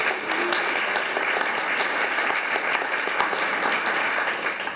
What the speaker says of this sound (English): so let's give her a brief round of applause